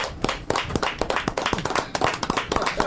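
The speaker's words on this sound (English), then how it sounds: "Let's have a round of applause for them." A studio audience claps in a quick, busy patter of overlapping hand claps at close range, continuous through the short stretch.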